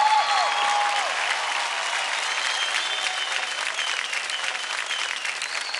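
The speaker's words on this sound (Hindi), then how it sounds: "जोरदार ताली हो जाए उनके लिए" Loud, sustained applause from a large audience, steady throughout, with a faint voice briefly audible at the start.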